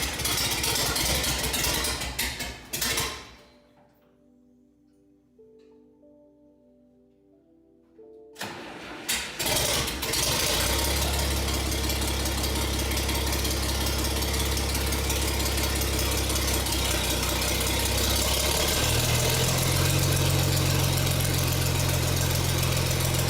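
A Farmall 706 tractor engine cuts out briefly, then restarts and runs at a rough, loud idle with uneven missing. The steady engine noise fills the rest of the clip and deepens slightly toward the end.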